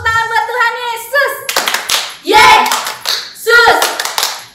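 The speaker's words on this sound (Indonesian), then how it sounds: "Tepuk tangan buat Tuhan Yesus." Children and adults clap their hands together during a Sunday school church service, bursts of rhythmic clapping mixed with singing and speaking voices throughout.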